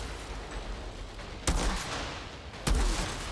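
Two separate loud rifle shots in Outriders, each a sharp close crack with a booming low tail, spaced about a second apart over a quiet ambient game background.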